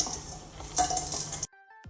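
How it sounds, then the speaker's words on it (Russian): A spoon scrapes and clinks against a pot while stirring sugar into chopped zucchini for jam, with soft metallic knocks, ending in a brief quiet tail. "и перемешиваю ложкой."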